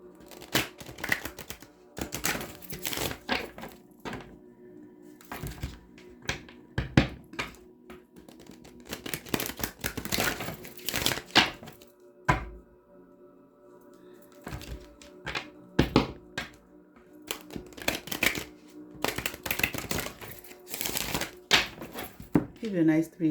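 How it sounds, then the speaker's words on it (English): Tarot cards are shuffled in repeated bursts of crisp, close clicking and riffling, separated by pauses, with a person talking in between. "Let me get you some good shuffles in"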